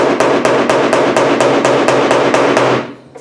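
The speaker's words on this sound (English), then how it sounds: "you can take a body hammer and just try to tap that down a little bit" A body hammer taps repeatedly on the decklid of a 1968 Mustang, about a dozen sharp, evenly spaced metallic knocks, close and loud, with no talk, ending in quiet.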